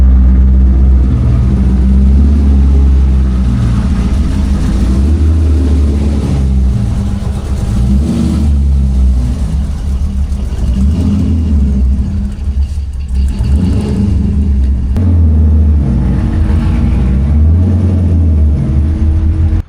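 A loud, steady engine rumble with a low, heavy tone comes from a Chevrolet Corvette C5 Z06 moving slowly while it is loaded onto a trailer. The engine gives only small swells in revs throughout.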